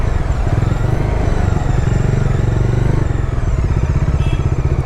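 A Bajaj Dominar 400 motorcycle engine rumbles steadily and loudly up close in first gear through traffic, with a throbbing idle-like pulse and faint clatter, no voices heard.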